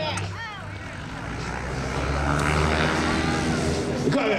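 A propeller airplane at the Hollister air show drones steadily, its engine swelling louder and nearer over a few seconds, with faint voices mixed in.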